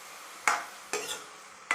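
A spoon stirs soaked masoor and moong dal in a pot, giving three sharp scraping clinks spaced under a second apart, each trailing off into a soft rustle, close and fairly loud with no talking.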